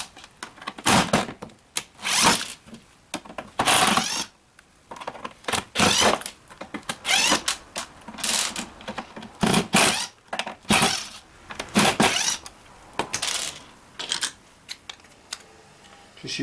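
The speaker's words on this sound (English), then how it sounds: "Now we'll remove the rest of the screws." Screws are worked out of the door of a Beko washing machine, giving a string of close, irregular short grinding and clicking bursts with pauses between turns; no talking.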